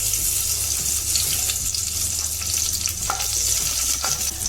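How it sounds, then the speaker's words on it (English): Slit chilies frying in hot oil for a smoked eggplant curry: a loud, dense, continuous sizzle with a few faint stirring clicks near the end; no talk. "We will add the chilies now."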